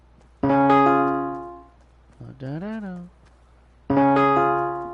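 Fortnite music blocks sound a chord of four notes from a song as bright, sustained electronic tones, struck twice with a short wavering sliding tone between, moderately loud and alone.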